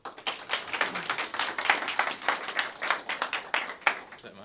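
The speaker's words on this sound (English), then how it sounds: "Everyone gets hand claps." A small audience claps at a DeFi association meetup in Melbourne, a sparse, uneven run of individual hand claps, close and fairly loud, with no voices over it.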